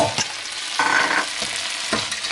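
Crayfish and minced green beans, carrot and corn fry in a pan as a spoon stirs them, giving a steady close sizzle broken by a few brief scraping bursts, with no voices.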